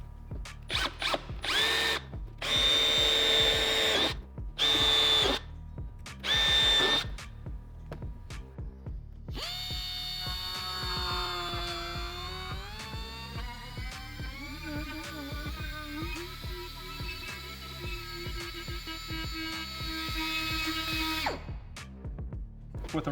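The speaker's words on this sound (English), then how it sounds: "we're going to use a drill bit and then go on to a carbide" A drill bit cuts into a Polaris plastic fuel tank, first in a few short loud bursts and then in one long steady whining run that shifts pitch as it bites, close up with no talking.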